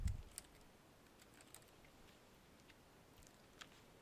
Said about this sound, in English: Type in the tutor's name.